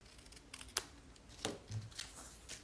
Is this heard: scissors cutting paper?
yes